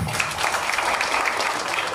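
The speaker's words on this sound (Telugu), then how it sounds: "క్లాప్స్ కొట్టండి, క్లాప్స్." Students and parents clap together at a school felicitation event, a steady burst of dense applause filling the short moment without pause.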